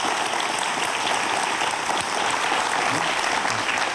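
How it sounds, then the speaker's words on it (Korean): A studio audience at a Korean science lecture on the Standard Model and the Higgs particle gives loud, dense applause that stays continuous and even from start to finish. "오늘 큰 박수 부탁드립니다"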